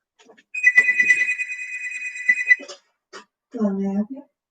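A phone rings with a steady electronic tone for about two seconds, then a voice briefly speaks close by.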